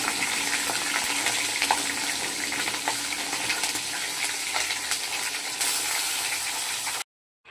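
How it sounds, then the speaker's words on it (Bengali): Rohu fish heads hiss and crackle as they fry in hot oil, a dense, steady, loud sizzle with small pops throughout that cuts off abruptly near the end. "এই যে তেলটা গরম হয়ে গেছে। এবার এই মাথাগুলো ছেড়ে দিচ্ছি।"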